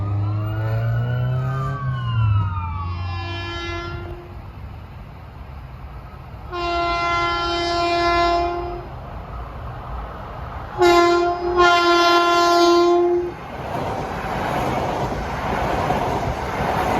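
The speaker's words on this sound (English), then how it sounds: "Train 1969, Ronkonkoma to Penn Station." An LIRR commuter train near Peters Boulevard crossing and CI interlocking sounds its air horn in several loud, close blasts over rumbling rail noise, with a crossing bell-like tone early on and the train's roar continuing afterward.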